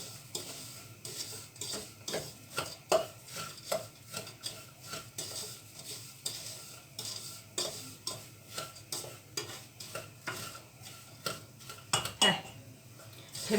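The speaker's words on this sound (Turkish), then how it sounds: "Daha biraz daha kavuracağım" Semolina roasting in a pan for semolina helva while a utensil stirs it, making a steady run of close scraping and clinking strokes at a brisk, even rhythm with no voices.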